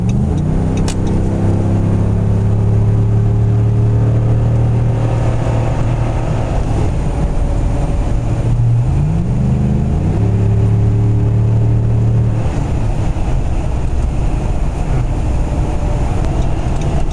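A Dodge Ram 1500 fitted with an aFe Momentum GT cold air intake accelerates from inside the cab, its engine note droning loud and steady, rising through gears with a shift midway and a steady road roar throughout.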